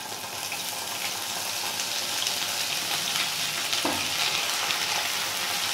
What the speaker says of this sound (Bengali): এই পেঁয়াজ বাটাটা আমি একটু হালকা করে ভেজে নেব